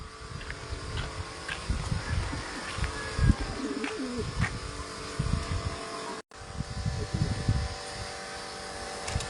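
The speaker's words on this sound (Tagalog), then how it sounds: "Ito yung tatlong ibon natin mga idol." Club racing pigeons in Bulan coo softly, a few low throaty coos rising and falling over a steady background hum with scattered outdoor noise and no talking.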